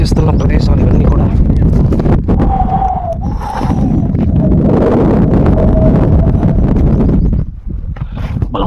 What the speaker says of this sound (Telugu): బలమైన గాలి వేస్తుంది.